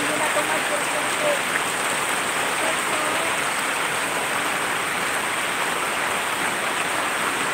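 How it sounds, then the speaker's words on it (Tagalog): Steady, dense hiss of heavy rain pouring down without letup, a constant wash of noise with no other sounds standing out. "Ulan pa rin."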